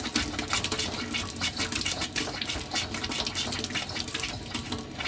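Rinse water runs steadily from a tap into a caravan water tank, a continuous splashing rush close by, fairly quiet and with no talking.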